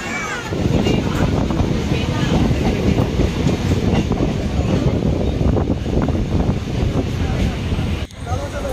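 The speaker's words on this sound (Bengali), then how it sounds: "ট্রেন এখন বদলপুরের পর রামনগরে এসে পৌঁছলো" A local train on the Panskura–Digha line runs on rails near Ramnagar, a loud, continuous rumble and rattle of the carriages that holds steady throughout, with a short dip near the end.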